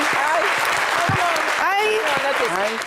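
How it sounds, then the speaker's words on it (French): Studio audience applause on a French-language TV talk show, clapping steadily, mixed with overlapping voices talking and calling out. "Merci d'applaudir son honnêteté"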